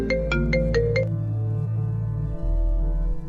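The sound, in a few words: mobile phone ringtone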